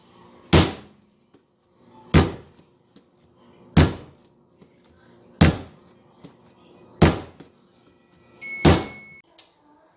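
Six evenly spaced thuds of an oven door being opened and shut while bread dough is set inside to rise, each a sharp close knock separated by quiet.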